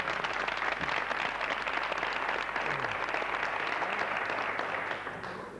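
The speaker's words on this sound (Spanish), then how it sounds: "hay que dar un aplauso" A dense wash of football ultras crowd applause in Spain, steady and fairly loud, tapering slightly at the end.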